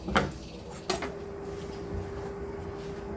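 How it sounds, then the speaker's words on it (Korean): A utensil clanks against a pan as garlic scapes and shrimp are stir-fried: two sharp, close metallic clinks a little under a second apart, then a steady low background with a faint sustained tone. "그냥 먹기 좋은 크기로 자른 다음에 이제 한번 볶아 볼게요"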